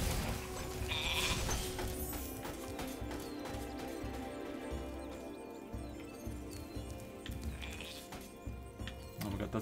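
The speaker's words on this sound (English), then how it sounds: "That's a very angry sheep." Angry sheep bleating in the video game Spyro the Dragon, repeated bleats over a steady bed of game music with hoof-like clip-clop sounds.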